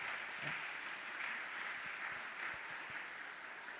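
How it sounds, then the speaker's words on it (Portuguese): Congregation applauding during a Sunday church service, a sustained crowd clapping that holds at an even level for several seconds, with no voices above it. "agora você pode aplaudir Jesus"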